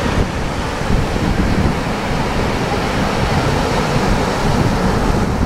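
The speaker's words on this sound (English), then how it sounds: "Here comes a wave" Ocean waves wash steadily onto a beach, a loud, continuous surf roar with gusty wind buffeting the microphone close by.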